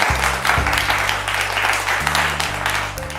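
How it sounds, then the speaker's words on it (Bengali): A crowd at an event in the Senco store in Rampurhat claps steadily in dense, sustained applause, with a low musical hum droning underneath. "4 জনের জন্য জোরে হয়ে যাক হাততালি।"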